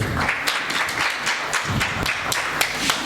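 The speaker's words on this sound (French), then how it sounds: "Let's clap for the word of God." Church congregation applauding, dense continuous clapping from many hands with a few sharper individual claps standing out, lively and close.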